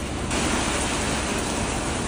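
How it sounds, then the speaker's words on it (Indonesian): Steady rain falling outdoors on a street in Indonesia, a dense continuous hiss that stays loud and close, with no voices over it. "Ih, muka aku dipukul hujan."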